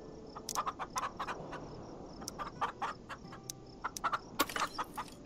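Chickens cluck in the farming video game Farm Together, short pecking bursts repeating in an irregular rhythm over a soft ambient farm background, no voices present.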